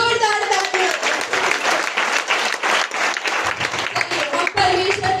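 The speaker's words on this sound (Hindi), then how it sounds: "कम बोलने वाली महिला के लिए एक बार जोरदार तालियां।" Loud applause from a church Christmas program audience, applauding a woman, dense and sustained clapping with a few voices mixed in throughout.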